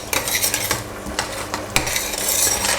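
A spoon stirs lamb shanks in stock inside a one-pot stew, giving close, irregular scraping and clinking against the pot over a soft sizzle.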